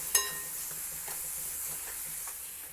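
A South Indian tempering for festive Dasara offerings fries in a pan with a faint, steady hiss and sizzle. A single bright utensil clink sounds near the start, and no one speaks.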